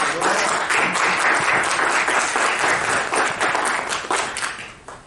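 Loud, sustained audience applause filling a hall at a financial accounting course event, dense clapping holding steady before tapering off at the end.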